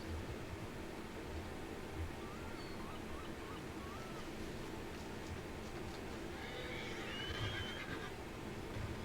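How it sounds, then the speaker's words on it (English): Horse whinnying in the Red Dead Redemption 2 western game, a faint, high, wavering call around the middle and again near the end over steady low ambient game noise. "Did you see the horse, Ava?"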